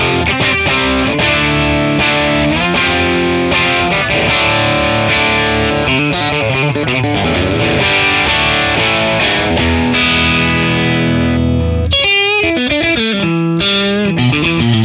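An electric guitar on its bridge pickup runs through a crunch capture of a Morgan Dual 20 amp, playing loud distorted chords and riffs continuously, with a few quick clipped stops toward the end.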